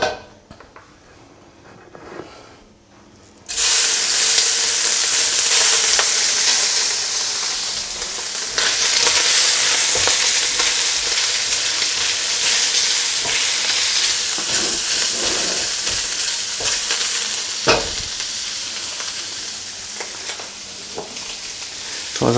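Shrimp egg rolls fry in hot oil. After a few quiet seconds, a loud, dense, crackling sizzle bursts in and holds steady, with occasional pops and a light clatter of utensils.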